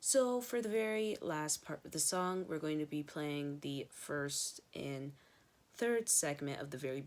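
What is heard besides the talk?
None of the usual background noises is heard.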